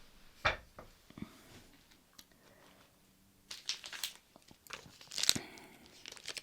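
Crinkly material crumpled in short bursts at close range, with scattered crackling and crunching noises separated by quiet pauses, with no talking.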